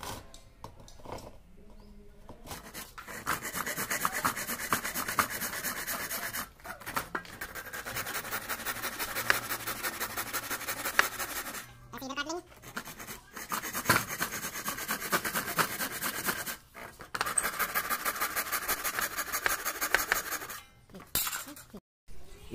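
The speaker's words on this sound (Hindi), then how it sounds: "तो हम इसको आरी से काट लेंगे।" A hand saw cuts into wood while a wooden side rabbet plane is being built, with close, steady rasping strokes in rhythmic bursts and brief pauses between them.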